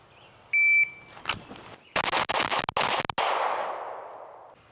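A shot timer beep, then a rapid string of loud, close shots from a Canik TTI Combat pistol in quick succession during a Bill Drill, ending with a ringing echo.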